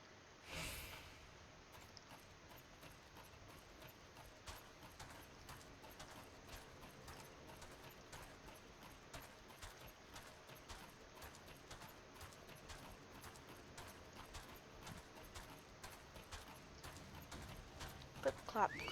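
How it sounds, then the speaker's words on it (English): Mount's hooves clip-clop in a steady, quiet rhythm in Final Fantasy XIV, with occasional snorts, running continuously for the whole stretch at a low level. "Clip clop, clip clop, clip clop, clip clop."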